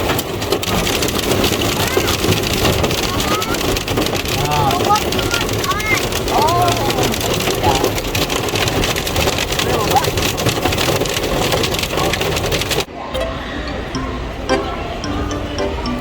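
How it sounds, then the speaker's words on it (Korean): Hail pelts a parked car in a dense, unbroken patter heard from inside the vehicle. The drumming stays loud and even for most of the stretch, then drops off sharply near the end. "밥 먹고 나왔는데 우박이 내려서 차에 갇혔습니다."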